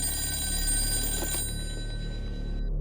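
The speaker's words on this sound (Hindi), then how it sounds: "मैं एक फोन घुमा दूं ना?" A telephone rings steadily with a bright electronic bell tone, close and clear, fading out near the end over a low background hum.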